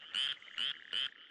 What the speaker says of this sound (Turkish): Frog. Kurbağa.